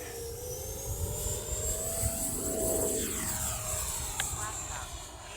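A small electric ducted-fan RC jet model whines steadily as it takes off, its pitch rising and swelling then easing as it climbs away, with a voice talking over it.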